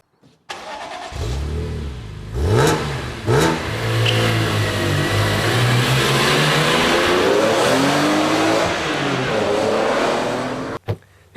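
A 2010 BMW X6 xDrive35i with a twin-turbo inline-six starts up and pulls away, revving through several rising gear changes before settling into a loud, steady drone, then a brief knock near the end.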